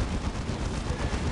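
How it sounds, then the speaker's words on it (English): Gunfire and explosions in a Dawn of War Unification battle between Death Korps of Krieg and Adeptus Mechanicus: a dense, continuous roar of overlapping shots and blasts with no break. "Minor explosions going off either side. Knight Paladin is firing left and right."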